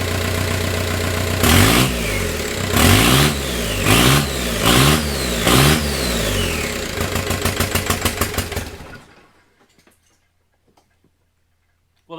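A truck with a swapped-in diesel engine and turbo trouble runs loud and close, revving in repeated surges with a rapid ticking rhythm, then shuts down into near silence.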